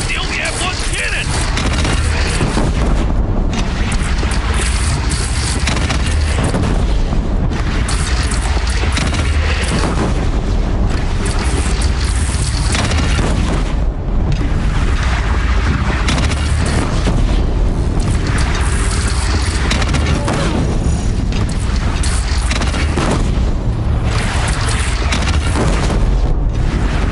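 Cannon fire in a video game battle: dense, loud, continuous booming and blasts that fill the whole stretch, layered with heavy rumble and possible voices beneath.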